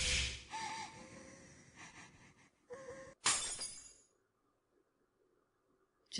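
A sudden, loud shattering crash in the horror video game Mad Father: a sharp burst, then a second, harsher break that trails off into near silence.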